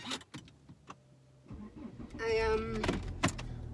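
A car engine runs while the car is being driven, giving a low hum under a voice, with a few clicks and thumps from inside the cabin.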